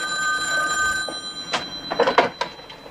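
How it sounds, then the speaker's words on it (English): A telephone rings in a sitcom home, a bright electronic ringing tone over quiet room noise, with a few brief sounds toward the end. "Jenny, phone call"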